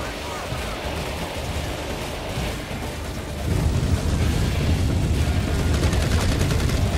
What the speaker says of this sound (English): The weapons blow up very nicely.